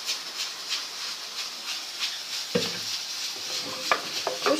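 Tomato paste cooks in a pan for dhaba-style dal, giving a steady, close, soft sizzling hiss broken by a few sharper stirring clicks and scrapes toward the end.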